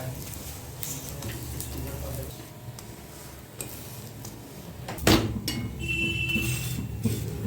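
Aloo paratha fries in oil on a hot pan, a low steady sizzle with light scraping and handling clatter, one sharper knock near the middle, all close by.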